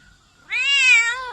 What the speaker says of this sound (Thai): เสียงจากแมวนั่นเอง